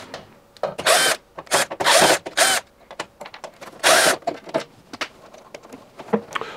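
Power screwdriver removing four screws from the drain pump at the front of a Bush WMNBX814W washing machine built by Vestel, loud whirring bursts of varying length with rattles between them, up close.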